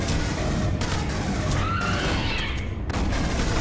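Dense, continuous gunfire from the Aliens: Colonial Marines video game on Teufelskerl difficulty, a loud sustained barrage of overlapping shots with booming impacts and no pauses.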